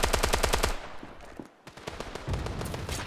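Rapid automatic gunfire from the mobile shooter Standoff 2 rattles in dense, evenly spaced bursts, loud and close, pausing briefly before another volley resumes.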